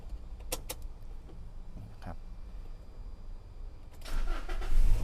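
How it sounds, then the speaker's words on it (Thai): A 2017 Toyota Revo 2.7 petrol/LPG pickup starts up, the crank and catch building to a louder engine note in the last second, preceded by faint clicks and jangles inside the cab. "ลองสตาร์ทเครื่องฟังกันเลยนะครับ"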